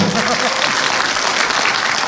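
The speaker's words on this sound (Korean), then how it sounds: "박수 한번 쳐주세요." Audience applause at a live public broadcast recording in Ilsan, a dense, loud wash of clapping filling the short moment with a voice faintly beneath it.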